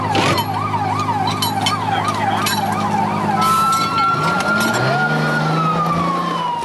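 A fire engine arrives at a fire scene with its siren wailing loudly and steadily, the pitch sweeping up and down before settling into a long sustained tone as the heavy truck's engine rumbles beneath.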